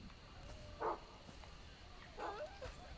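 A dog in Far Cry 3 gives two short, separate barks about a second and a half apart, moderately distant against quiet game ambience.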